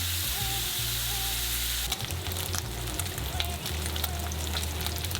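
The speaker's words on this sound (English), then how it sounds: "Spread out the bacon so it doesn't stick and break it up." Bacon strips fry in a hot pan for carbonara, giving a steady broadband sizzle with crackling pops throughout, close and continuous, with a faint low hum underneath and no talking.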